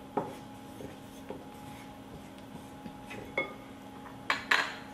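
A spoon scrapes and knocks around a bowl as honey is worked into flour, with scattered clinks and scrapes over about five seconds, close and alone without voices.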